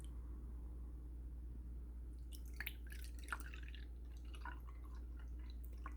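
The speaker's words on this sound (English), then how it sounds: "I'm going to pour some juice into our drinking glasses" Juice pours into drinking glasses in a burst of liquid splashing and trickling that begins partway through, close and fairly clear over a steady low hum.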